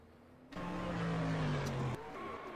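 A race car, number 87, roars past close by in a sudden loud rush, its engine pitch falling as it goes, then fades abruptly to a lower background drone.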